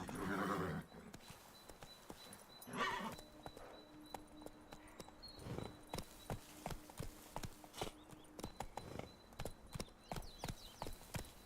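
A horse in The Witcher 3 clip-clops at a gallop in a quick, steady rhythm, with a whinny near the start and faint game ambience underneath.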